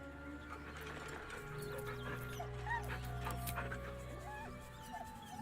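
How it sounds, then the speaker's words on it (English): A dog whimpers faintly in the video game Baldur's Gate 3, with soft, repeated high whines and yips over a low, steady ambient drone. "The dog whimpers nervously"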